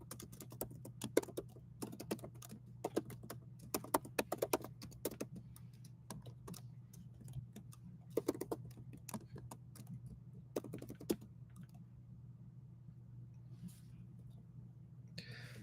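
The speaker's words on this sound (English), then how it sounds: "I'll type it in the chat here" Clicky bursts of typing on a computer keyboard, quick irregular keystrokes in short runs with pauses, fairly close over a steady low electrical hum, ending in near quiet.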